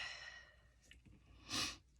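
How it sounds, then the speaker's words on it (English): A short, quiet sniffle followed by a louder breathy snort through the nose, close by. "Oh, excuse the sniffles."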